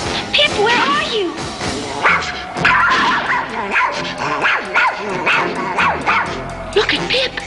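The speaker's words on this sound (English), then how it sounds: "Look at Pip. That's how he acts when he sees you or me or anyone he knows." Dog barks and yips repeatedly in a burst of excited, near barking, mixed with voices talking over it in a frontier wilderness setting.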